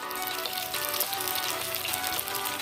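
Pomfret (vavval) fish frying in oil over a low flame, a steady close crackling sizzle running without pause.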